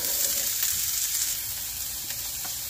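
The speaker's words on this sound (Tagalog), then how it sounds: "unahin natin gigisahin yung ating mga fresh na spices like fresh garlic, onion, at itong chopped na kamatis." Fresh garlic, onion and chopped tomato sizzle steadily in hot oil in a pan, a close, bright frying hiss with faint stirring scrapes and no talking.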